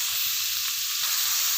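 Spices frying together in a hot pan give a steady, close sizzle that holds a constant bright hiss throughout, with no talk over it.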